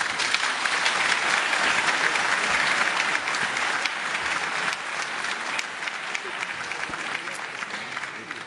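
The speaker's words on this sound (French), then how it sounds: "si j'en juge par la chaleur des applaudissements" Warm, steady applause from an audience at a round-table discussion on transport and regional development, a dense wash of many hands clapping that fades slightly toward the end.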